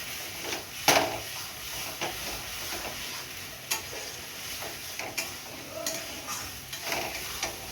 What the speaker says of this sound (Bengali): এই দেখুন মশলা আলু কষিয়ে নিয়েছি